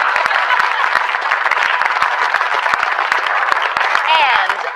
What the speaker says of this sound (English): I think we owe a round of applause to our master chef of the evening, Mr. Andrew Browning, for that fabulous meal